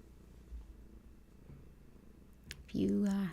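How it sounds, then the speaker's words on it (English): Quiet room tone, then a cat purrs up close near the end, a steady low rumbling purr, with a soft voice speaking faintly earlier. "If you happen to hear little Hattie's purrs, let them help you come back."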